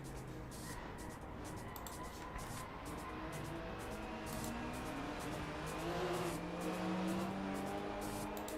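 Drift cars at a drifting Grand Prix run along a track's back straight, engines droning steadily at a distance with rising and falling revs, a faint continuous roar with no nearby talk.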